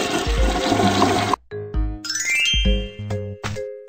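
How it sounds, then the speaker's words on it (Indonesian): A toilet flush in a children's cartoon bathroom scene, heard as a short whooshing rush of water ending abruptly, followed by bright tinkling ding-like chimes and musical tones. "Siram toilet setelah kamu selesai."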